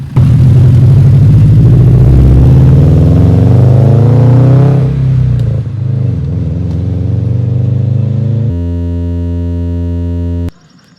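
Car engine with an exhaust leak where the pipe meets the downpipe at a worn donut gasket, revving loud and close, pitch rising then settling, followed by a steady idle hum that cuts off.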